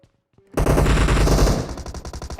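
Automatic gunfire in PUBG Mobile rips out as a loud, sudden burst after a half-second of near silence, then breaks into separate rapid shots that fade toward the end.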